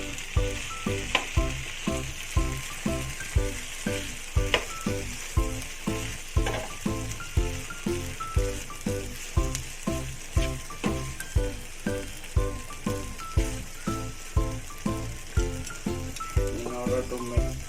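Chilli flakes sizzle and crackle in hot oil for an Indian tadka, with a steady frying hiss and rhythmic scraping strokes of a spoon stirring the pan, repeating about once per second throughout.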